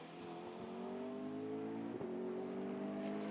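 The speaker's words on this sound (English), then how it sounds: "As Liuzzi accelerates through the final turn, goes into his first flying lap of the session." A GT race car at the Hungaroring circuit accelerates steadily, its engine note rising smoothly over a few seconds with one brief gear-shift blip, heard from trackside at moderate volume.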